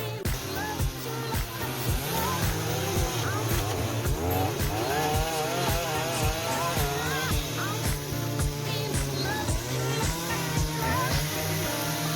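Chainsaw cutting wooden figures, its high revving engine whining and surging over a steady idle, with rhythmic knocks and bursts as the blade bites the wood.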